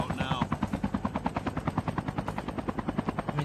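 A helicopter in the video game Call of Duty Mobile thumps steadily with a fast, even rotor chop, loud and close throughout with no pause.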